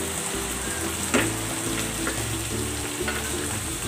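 Flaked tinapa, smoked fish, sizzling and frying in a pan, a steady close crackle with occasional stirring scrapes and soft pops throughout.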